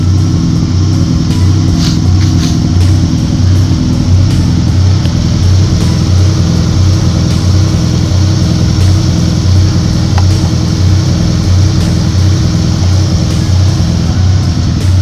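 A car engine idles steadily on its own with a low, even, pulsing rumble, running unassisted after its jumper cables are disconnected from another car during electrical troubleshooting.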